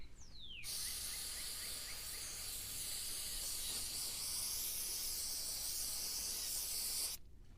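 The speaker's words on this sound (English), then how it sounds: "let's go ahead and just spray it off." Cleaner sprayed in one long continuous hiss onto an oily BMW VANOS engine part, steady and close, stopping abruptly after about seven seconds, with no voices.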